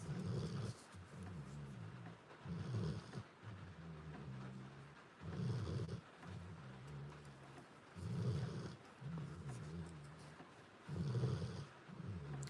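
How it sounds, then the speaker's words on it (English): A dog snores in a slow regular rhythm of long rumbling breaths, roughly every three seconds, close but soft, over a steady hiss of rain outside. "You get to listen to cute doggy snores."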